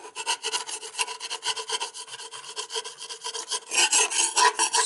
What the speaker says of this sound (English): You need to try and scrape off as much as you can.